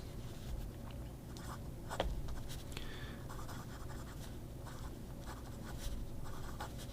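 A fountain pen with an original Pelikan nib, an M800-style pen, scratches steadily across paper in quiet, close strokes with a few tapping touches, over faint room noise.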